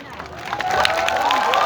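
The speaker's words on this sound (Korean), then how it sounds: "다시 한번 큰 박수 부탁드리겠습니다" Audience at a summer b-boy dance showcase applauds and cheers after a breakdancing guest performance, a steady wash of clapping and shouts with a voice ringing over the crowd.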